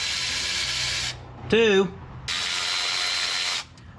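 Ratchet or power driver working bolts loose on a 1958 Chevrolet Apache, two long steady whirring bursts separated by a short spoken word, fairly loud and close.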